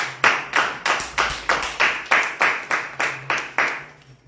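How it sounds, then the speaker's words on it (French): Rhythmic audience clapping for a woman at a business presentation, a group clapping in unison in slow, evenly spaced bursts, about a dozen strong claps in a row, close and clear with no talking. "Est-ce qu'on peut applaudir la dame, s'il vous plaît?"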